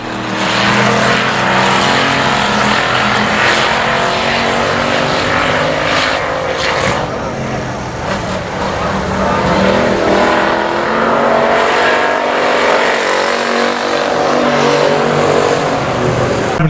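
Race cars roar around the oval at I-37 Speedway on the final lap, a loud, continuous wash of engines swelling and fading as the pack passes, with a distant voice now and then.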